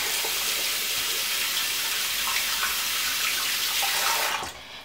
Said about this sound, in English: So I'm going to start off by washing my face.